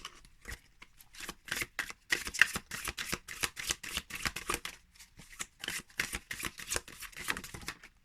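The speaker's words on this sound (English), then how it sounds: "it's so nice to look at when I'm shuffling" A deck of Monsoon Tarot cards with a silvery finish is shuffled by hand in quick, repeated riffling bursts, close and crisp, with short pauses between rounds.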